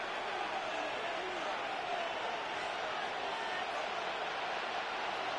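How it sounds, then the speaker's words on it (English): A stadium crowd cheers in the Madden football video game before a third-and-long play, a dense, constant roar that stays level and loud throughout. "The crowd cranking it up another notch before 3rd and long."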